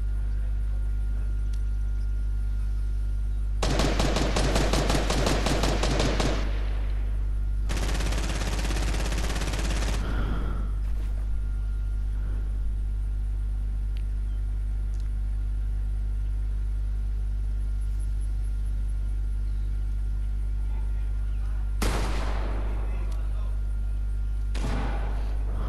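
Rapid bursts of automatic gunfire in Fortnite crackle at mid distance, a dense volley of a few seconds followed by another sustained burst, then a single late shot over a low steady game drone.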